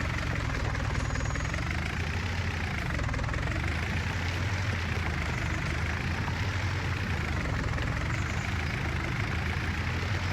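A tractor engine idles steadily in Farming Simulator 19, a continuous low mechanical rumble that holds constant and close throughout with no voices over it.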